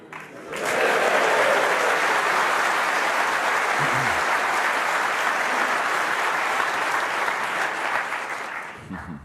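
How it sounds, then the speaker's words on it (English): The crowd at a snooker World Championship semi-final between Ding Junhui and Alan McManus bursts into loud, sustained applause and cheering that starts abruptly, holds steady for about eight seconds, then tapers off. "Big cheer from the crowd."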